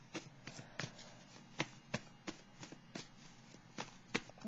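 Tarot cards being shuffled by hand, quiet and close, with a string of sharp papery riffles and taps at an uneven rhythm.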